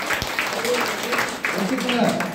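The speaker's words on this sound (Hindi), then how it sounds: "डॉक्टर लीम शिवजी के लिए जोरदार ताली लगाइए" Audience applause at an indoor DXN company event, clapping for Dr. Lim Siow Jin; steady, dense clapping continues throughout, fairly loud, with a voice faintly audible over it.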